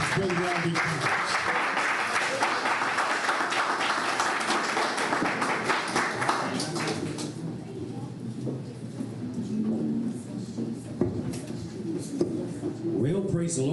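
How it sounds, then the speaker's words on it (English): A church congregation at a Sunday service gives a sustained round of hand clapping that runs strong for several seconds, then thins and fades as voices and room noise take over. "Give Brother Robbie and Jesus a hand clap as Brother Robbie comes."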